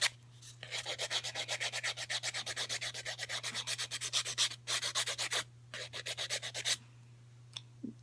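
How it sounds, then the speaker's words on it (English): A nail file rasps across fingernails in quick, regular back-and-forth strokes, grouped into bursts with short pauses between them, close and fairly quiet over a low steady hum. "Look down, make sure I'm not filing too much on one side."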